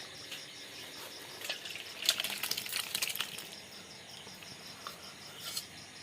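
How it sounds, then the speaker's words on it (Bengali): Luchi, a puffed Bengali flatbread, deep-frying in hot oil: a soft steady hiss breaks into a burst of dense crackling sizzle in the middle, then settles back to quieter spitting. "আর লুচিটা ভেজে নিচ্ছি।"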